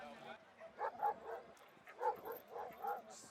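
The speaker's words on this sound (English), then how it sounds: "German shepherds, greyhounds, pit bulls, mastiffs and other pedigree dogs all participated in the contest in Khartoum" Pedigree dogs such as German shepherds, greyhounds, pit bulls and mastiffs at a dog beauty contest in Khartoum give several yips and barks in a loose rhythm, mixed with a busy crowd and voices nearby.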